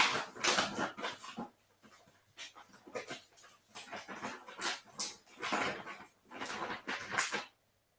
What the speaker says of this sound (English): Goddamn dog's driving me nuts tonight.